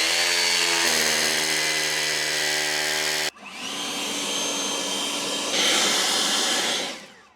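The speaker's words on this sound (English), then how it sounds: "I'm going to do this with the mains powered electric drill. SDS again, same size hole." Mains-powered electric SDS drill boring a hole for a concrete screw fixing: a loud sustained motor whine that shifts pitch midway as the bit bites, then winds down at the end, with no talking.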